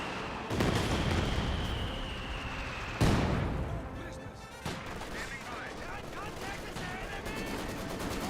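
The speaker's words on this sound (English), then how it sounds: "Grenadier is getting hit by the Maxim." Maxim machine gun fire rattles in a Company of Heroes 2 battle, with loud rapid bursts and heavy artillery-like booms alongside other gunfire and battlefield noise.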